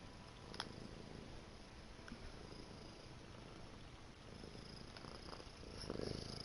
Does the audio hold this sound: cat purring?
yes